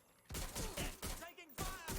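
Gunfire in a Watch Dogs Legion shootout, bursts of shots in quick clusters, close and loud, with shouted in-game voices overlapping the firing.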